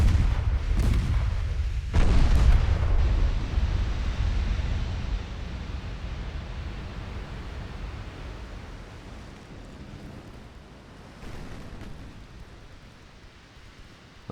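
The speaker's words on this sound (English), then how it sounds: "The battleships are just firing away." Battleship guns firing in a naval warfare strategy game set in 1946, with a few heavy booms close together early on followed by a long rolling rumble that fades, with a fainter distant shot later.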